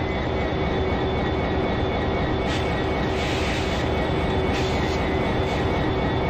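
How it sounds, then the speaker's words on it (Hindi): A freight train pulls away in a train simulator, sending out a loud, steady, continuous rumble of engine and rolling wagons with no breaks, and a few faint higher hisses come through on top. "ये फ्राइट ट्रेन डिपार्ट कर चुकी है"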